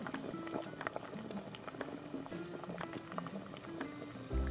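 Pointed gourd curry in a pan after a little water goes in, a faint bubbling simmer with small pattering pops and a soft knock at the end.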